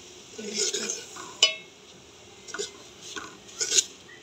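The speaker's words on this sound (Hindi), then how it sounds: "अब इसको चम्मच हिलाना है इसमें।" Semolina roasting in ghee in a pan for sooji halwa, a spoon stirring it with a few soft scrapes and sharp metallic clinks against the pan, fairly quiet and spaced out.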